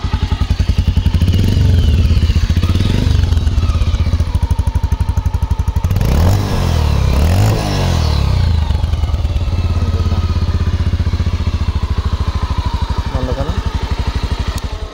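Revving of a 2021 Pulsar UG-7 motorcycle engine, pearl color: a loud, close engine that holds a steady idle, then swells through a couple of throttle blips around the middle before settling back to a rough, continuous idle.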